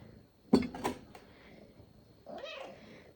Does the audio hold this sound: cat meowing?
yes